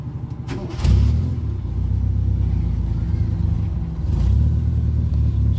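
A Kia CD5 engine with a bad spark plug idles roughly, a close, loud, shaky rumble with uneven stumbling pulses and a couple of surging bumps, heard without talk.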